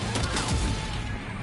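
A brief burst of dense gunfire from Death Stranding 2, rapid overlapping shots filling the short moment at close range.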